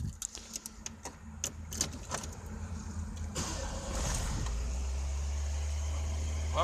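A Ford Escort Zetec 1.8 16v engine starting: scattered clicks and rattles, then the engine catches and settles into a steady, loud low idle, with no talk over it.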